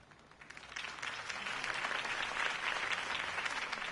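Crowd applause in the Batman Telltale Series video game, a dense wash of clapping that builds from a thinner start into a full, steady ovation, heard alone without talk.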